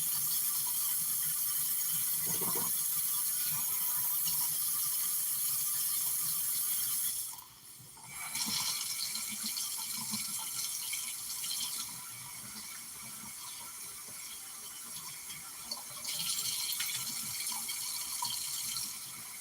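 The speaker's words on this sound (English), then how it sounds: "And I wash my rice until my water comes out clear." Rice being washed under a running kitchen tap, a steady broadband rush of water that continues throughout, with a brief dip and a few clatters partway through.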